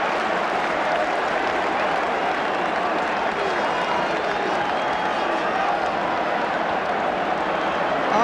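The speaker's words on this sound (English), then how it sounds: "Arsenal supporters applaud" Arsenal football supporters applaud a goal inside the stadium, a steady, dense roar of clapping and crowd noise that fills the whole stretch without a break.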